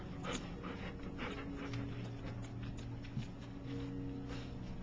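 A young puppy from a litter pants and whimpers close by, soft breathy huffs and faint whines repeating over a steady background hiss, with no talking.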